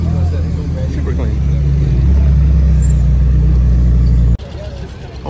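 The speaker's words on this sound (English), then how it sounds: "Oh, Porsche pulling up, clean." A Porsche GT3 with an aero package pulls up at a cars and coffee meet in Scottsdale, Arizona, its loud, close engine droning and swelling before cutting off abruptly near the end, with people talking over it.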